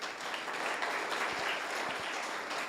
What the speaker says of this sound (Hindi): तो मुझे अच्छा लगा, आप ताली बजाए।